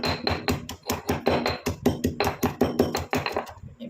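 Green ingredients being pounded to draw out their juice, a steady run of about twenty dull, close thuds in an even rhythm, loud and without talk.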